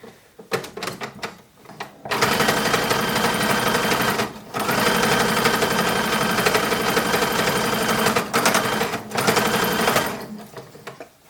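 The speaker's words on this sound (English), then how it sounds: "this part's a little bit hard to sew because you don't want to obviously sew underneath" A sewing machine stitches a cuff on a 1940s WWII staff uniform, running in long, loud, steady bursts with brief pauses between them. Light handling noise comes first.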